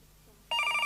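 A telephone in a room starts ringing halfway through, an abrupt bright electronic trill after near silence, close and clear with nothing else over it.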